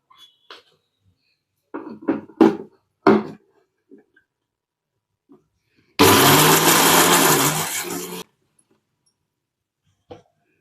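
A mixer grinder whirs loudly for about two seconds as it grinds dry spices coarsely in a dry jar, then stops abruptly, with brief bits of speech and clatter before it.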